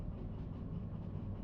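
A train rolls steadily downhill in the Derail Valley train simulator, giving a continuous low rumble of wheels on rails with faint rhythmic clatter, moderately loud and without any talk.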